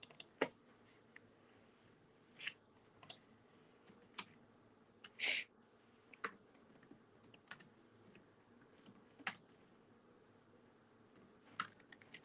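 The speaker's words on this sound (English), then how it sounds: "I'm typing with one hand." Typing on a computer keyboard with one hand, sparse irregular clicks and short bursts of keystrokes, close and fairly quiet, with long pauses between them.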